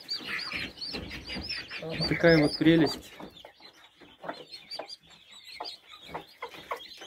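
Young Italian layer (Leghorn) and Chabo chicks peep and cheep in quick, high bursts, loudest in a dense cluster early on and then scattered and softer, while a nearby voice speaks briefly over them.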